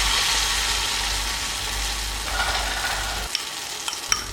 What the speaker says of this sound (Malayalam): അതിനുശേഷം നമ്മുടെ തിളച്ച എണ്ണയിലേക്ക് ഇട്ട് കൊടുക്കുക.